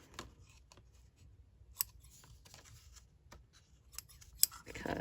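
Scissors trim cardstock for a handmade double-fold card, giving a few sparse, faint snips and clicks close by in an otherwise quiet room with no talking.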